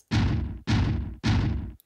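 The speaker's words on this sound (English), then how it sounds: "There's something called Stomp Trapdoor, which has this really interesting distorted sound about it." Stomp Trapdoor, a distorted kick from Logic Pro's Drum Machine Designer, strikes three times in a steady rhythm. Each hit is a heavy, gritty thud with a saturated, trashy tail that rings for about half a second, loud and with nothing else behind it.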